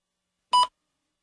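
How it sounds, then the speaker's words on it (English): A single short electronic beep, clear and close, sounding once in otherwise silent surroundings. "Please begin speaking after the beep."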